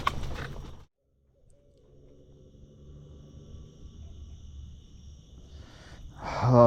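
A barred owl hoots from somewhere in a jungle, its low, soft calls faint and distant over steady background rumble, with a brief louder burst of noise near the end.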